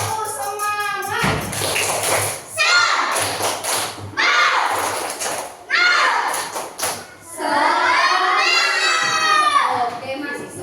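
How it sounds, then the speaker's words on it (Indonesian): A classroom of children performing the tepuk semangat clapping chant, bursts of rhythmic claps and thumps mixed with loud shouted chanting voices in several short energetic phrases, with brief pauses between them. "Oke, tepuk semangat."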